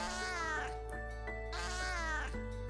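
Cats at a mountainside guesthouse meow in two drawn-out, wavering cries close by, over a steady low background hum.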